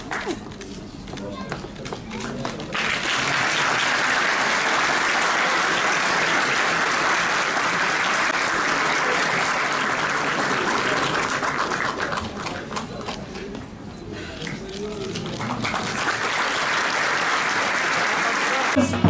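Sustained crowd applause fills a mayor's inauguration ceremony in Muğla, Turkey, a steady dense clapping wash that briefly dips and swells again while someone speaks over it through a PA.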